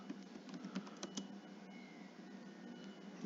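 Computer keyboard typing sounds soft and close, with a few quick clusters of key clicks early on before things settle into quiet room hiss.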